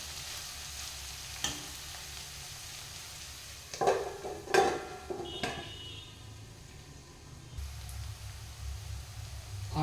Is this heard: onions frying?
yes